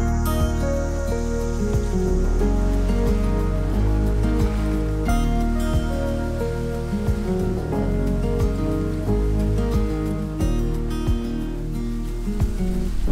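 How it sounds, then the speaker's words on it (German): A waterfall pours among rice terraces and gorges near Tetebatu on Lombok, Indonesia, giving a steady, full rushing wash of water with scattered splashy ticks throughout. "richtig cooler und unerwarteter Spot, einfach so ein Wasserfall."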